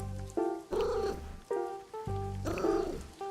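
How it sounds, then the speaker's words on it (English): A house cat purrs and vocalizes close up in a few rumbling, throaty bursts with short gaps between them, and no talking is heard. "Make cat noises."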